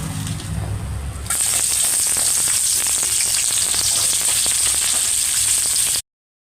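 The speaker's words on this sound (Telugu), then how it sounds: "ఆయిల్ హీట్ ఎక్కిన తర్వాత ఒక ఉల్లిపాయ చాప్ చేసుకుని ఉంచుకున్నాను" Chopped onion hits hot oil in a pan for a chicken fry biryani, setting off a sudden loud, steady sizzle that keeps crackling evenly to the end.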